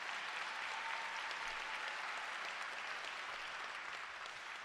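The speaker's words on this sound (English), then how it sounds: "yeah, you can clap." Graduation ceremony audience for an eighth-grade class applauding, a continuous wash of many clapping hands heard from a distance, even and fairly faint throughout.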